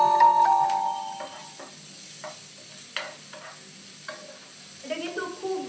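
Chopped onions and green chillies sauté in hot oil, a soft continuous sizzle with light stirring scrapes and a few taps, plus a brief clinking at the start.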